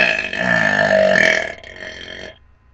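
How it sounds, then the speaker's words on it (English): A kid lets out a long, loud burp lasting a couple of seconds, strong and rumbly before it trails off into quiet, with no talking. "This is ear-pinching burps from a kid"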